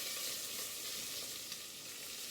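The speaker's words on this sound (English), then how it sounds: "I'm going to saute until sauteed." Garlic sautéing in a pan, a soft, even sizzle and crackle held at a low level throughout, close by, with no voices.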